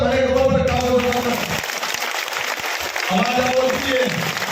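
Crowd applause at a politician's meeting in Bhabhar, a brief dense round of clapping heard between loud amplified speech at the start and end.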